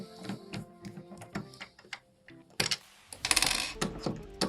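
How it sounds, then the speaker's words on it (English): Small screws being undone with a Phillips screwdriver on an SH300 humidifier, a run of close metallic clicks, scrapes and light rattles, with louder tool-and-plastic clatter near the end. "You just open these 3 screws with a plus screwdriver"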